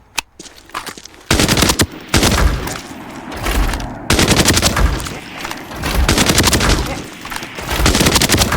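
A T03 assault rifle in Arena Breakout Infinite fires on full auto in loud, close, sustained bursts, several strings of rapid shots broken by short pauses, with no talk over the shooting.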